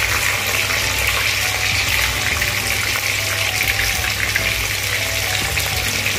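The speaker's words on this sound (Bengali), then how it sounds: "তেলটা গরম হয়ে গেছে, আমি এর মধ্যে এই চিকেনগুলো মুলচাগুলো ছেড়ে দেবো" Chicken muithya dumplings frying in hot oil, a loud, dense and continuous sizzling hiss that stays steady throughout, heard close with no talking.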